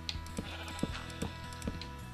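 Sheep in the Minecraft video game bleat several times in quick succession, short nasal calls repeating about every half second over steady game background noise.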